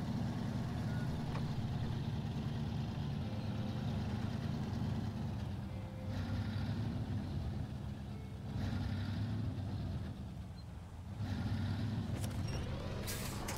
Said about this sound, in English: I'm still driving up a muddy track with a fair bit of weight still on a trailer